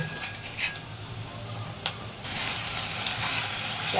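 Onion sizzles softly in a pan, and the frying swells louder as garlic and chili paste go in, with a couple of brief utensil clinks.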